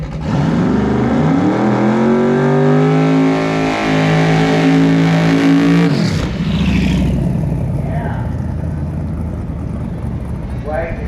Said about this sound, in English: A little crazy at the end of the burn there. 63 Chevrolet Corvette.